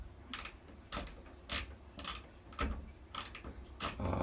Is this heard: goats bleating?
no